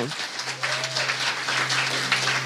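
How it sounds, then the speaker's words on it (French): A church congregation claps and applauds in a dense, sustained burst of hand claps that fills the space and continues throughout. "Acclamons le Seigneur Jésus-Christ"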